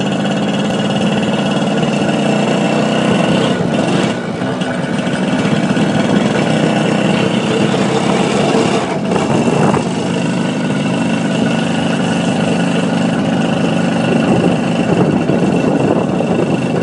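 Motorcycle riding on the road between Samaná and Los Tocones in the Dominican Republic, its engine droning steadily and loudly throughout with wind rush, no talk.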